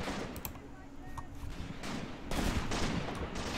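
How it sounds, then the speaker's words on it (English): Machine gun fire and scattered shots in the Graviteam Tactics war game, set in the 1942 battle for Shilovo, heard as a distant, dense crackle of bursts with a few sharper nearby shots and talk over it. "it looks like the enemy might have some machine guns over here"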